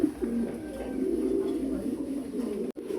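Pigeons coo softly and steadily on a farm, a low, continuous murmur of calls close by with faint background noise.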